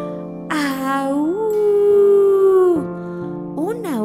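A storyteller's voice imitates a chilling wolf howl in a bedtime tale: one long, loud, wavering wail that rises and sustains, then dips, with a short second rising cry at the end.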